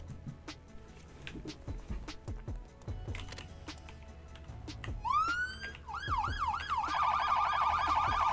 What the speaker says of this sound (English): So emergency siren.